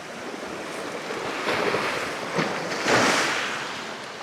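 Sea waves roll in among rocks at Teen Khaji Beach, a steady roaring wash of surf that swells in two louder surges, with wind buffeting the microphone and no speech.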